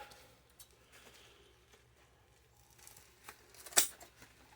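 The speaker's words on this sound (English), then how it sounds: "I'm going to go ahead and cut down one piece." Scissors snip through packing material while a pedestal cake stand is packed for shipping, soft quiet cuts building to one sharper close snip near the end, with no talk.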